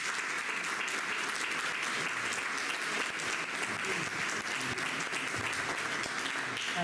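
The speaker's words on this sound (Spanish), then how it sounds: "Vamos a darle un aplauso." An audience at a book presentation applauds, a steady, dense wash of clapping from many hands that carries on without pause throughout.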